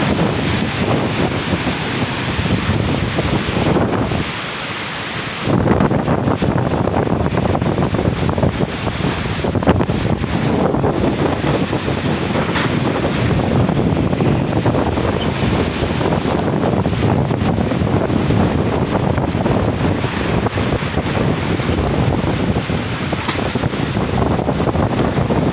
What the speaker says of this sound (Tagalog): Grabe po ang hangin